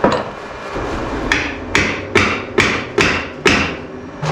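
A hammer strikes six times in a steady rhythm on the rear shock mounts of a VW Baja Bug's trailing arm, each blow a sharp ringing bang close by, with quieter scraping before the first hit.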